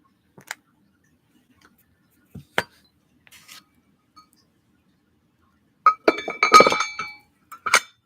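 Metal cap of a candle jar clinking, a few sparse light taps early on, then a louder cluster of bright metallic clinks near the end, close and isolated with no talk.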